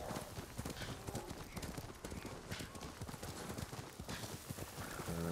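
Rapid, rhythmic hoofbeats from a galloping horse in the samurai video game Ghost of Tsushima, a steady close clip-clop drumming throughout with game ambience underneath.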